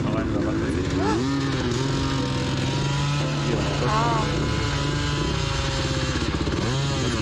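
An enduro motorcycle engine labors and revs on a hill climb, its rising and falling whine and rough throttle bursts heard throughout beneath people talking over it.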